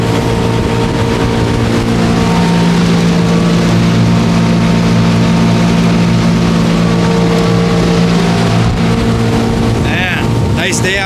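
Outboard motor of a 1967 Sears boat running steadily on open water, a loud continuous droning hum with wind buffeting the microphone throughout.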